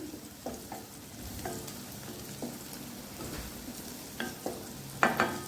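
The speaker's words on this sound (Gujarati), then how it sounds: "અહીંયા મરચાં આપણા તળાઈ ગયા છે" Green chilies frying in a pan for a jaggery chili dish, a soft steady sizzle broken by scattered pops and the light scrape of stirring, close and fairly quiet with no talk.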